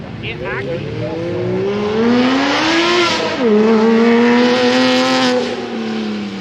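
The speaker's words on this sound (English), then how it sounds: "That Porsche sounds really, really good." A Porsche at a car show gives a loud, sustained exhaust note that rises and falls as it revs, with a brief dip near the middle before it climbs again, and people talk underneath.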